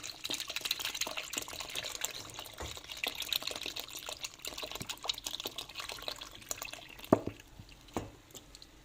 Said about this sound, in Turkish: Daha sonra içi üzerine 1 litre süt ekliyorum.